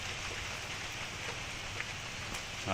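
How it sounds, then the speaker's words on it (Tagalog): Soft, steady rainfall patters continuously on a surface at a chili pepper field, fairly quiet and close, with no talking. "Alright guys, silong muna tayo, naulan."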